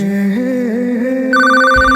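A telephone rings with a steady electronic tone that shifts to a brighter, higher-pitched ring partway through. No talking.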